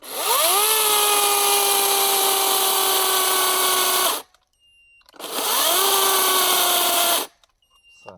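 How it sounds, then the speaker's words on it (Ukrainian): A Vitals 36 V, 1.5 kW cordless electric saw whines loudly in two long steady runs, a high motor tone rising at each start, with brief near-silence between and after. "пила дуже потужна, ріже дуже круто, дуже легко, м'яко"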